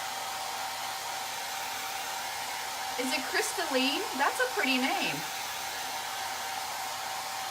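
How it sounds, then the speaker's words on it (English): A hair dryer drying a painted chalkboard sign blows with a constant, steady whoosh throughout, while a voice briefly speaks over it in the middle. "I'm gonna go ahead and just dry this with my hair dryer"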